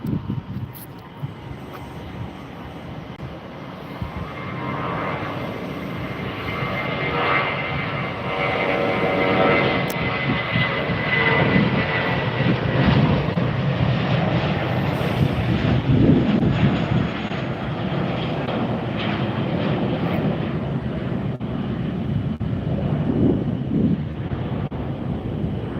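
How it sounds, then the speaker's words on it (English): A JetBlue jet airliner takes off from Tampa airport on a balmy afternoon, its engines a steady, loud, broadband roar that holds throughout, with some wind buffeting the microphone. "Here goes JetBlue heading off to Boston."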